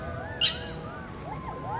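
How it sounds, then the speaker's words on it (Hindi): A bird calls in a forest at midnight with a string of swooping, whistled notes, fairly faint, broken by one brief sharp burst early on. "लेकिन इस वक्त ये पक्षी की आवाज़ भी काफ़ी ज़्यादा डरा रही है।"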